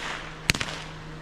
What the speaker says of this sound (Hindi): बीडी बम को टेस्टिंग करते हैं।